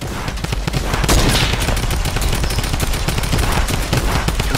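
Tactical shotgun fire and other weapon shots in the video game Fortnite, a loud, dense stream of rapid overlapping blasts that continues without pause, heard alone.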